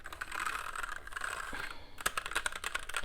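Typing on a personal computer keyboard, close and quiet, with a rapid patter of key clicks that thickens into a denser burst of taps toward the end.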